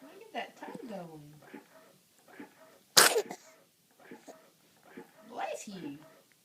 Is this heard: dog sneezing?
yes